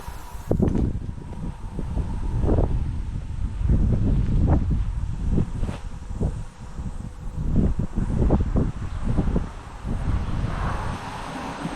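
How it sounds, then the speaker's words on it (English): Steady wind rumbles and buffets outdoors, with low gusty roar rising and falling throughout and occasional brief knocks in the background. "It's just a little bit windy out there"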